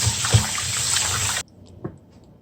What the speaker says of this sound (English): you need a cold water. And you put the salt in and you rinse.